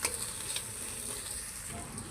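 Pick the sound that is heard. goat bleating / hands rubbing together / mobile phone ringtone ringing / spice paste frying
spice paste frying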